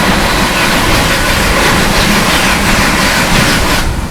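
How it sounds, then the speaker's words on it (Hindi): The Patna Tejas Rajdhani Express, running from Rajendra Nagar Terminal to New Delhi, passes close by as a loud, continuous roar of rolling wheels and rushing air that eases slightly at the end. "सामने से आ रही है राजेंद्र नगर टर्मिनल, पटना से चलकर नई दिल्ली का जाने वाली पटना तेजस"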